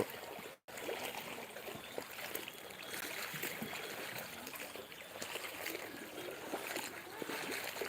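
Strong floodwater current rushes past in a flooded area of Netrakona, a dense continuous wash of churning, splashing water that stays loud and close throughout, broken only by a brief dropout near the start.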